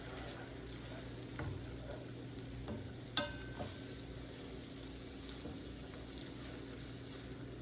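Onions sautéing in a pan of butter and a little oil give a steady, low sizzle with occasional soft stirring clatters and one brief sharp clink near the middle.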